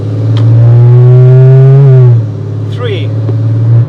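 A Porsche Cayman GT3 with PDK dual-clutch gearbox revving loudly up to a gear change into second, the engine note dropping sharply at the shift and then climbing again, close and dominant.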